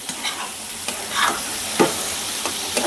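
New potatoes fry with spices in a pan, a bright continuous sizzle broken by repeated scraping stirs of a spoon, close and fairly loud with no talk.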